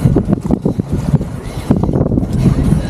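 Steady gusty wind at Two Jack Lake, Canada, buffeting the microphone, a low rumbling roar that rises and falls throughout with no clear voices.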